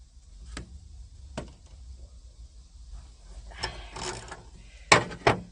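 A ratchet loosens the door bolts on a 1979 Pontiac Trans Am, giving several separate metallic clicks and short ratcheting bursts spaced irregularly, close by in a quiet garage.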